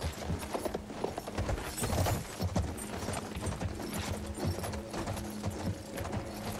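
Horse hooves clip-clop in a steady rhythm during a ride in Battlefield 1, set against an Ottoman fortress, with continuous game ambience beneath and no talk.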